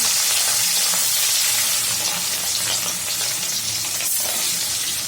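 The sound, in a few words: hilsa fish frying in hot oil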